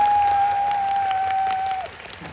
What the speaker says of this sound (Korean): 다시 한번 위로와 격려의 박수 한번 주시겠어요?